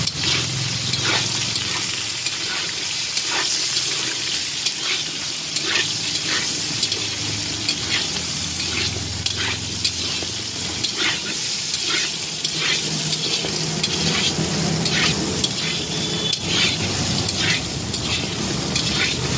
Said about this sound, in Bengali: তেলটা গরম হয়েছে, এবার এই পটলটা দিয়ে দেবো।